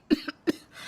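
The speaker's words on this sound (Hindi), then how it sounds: "आपको बड़ी खांसी आ रही है।" A cartoon character in a Hindi animated comedy coughs twice, short harsh bursts close to the microphone, with a brief throat-clearing rasp between them.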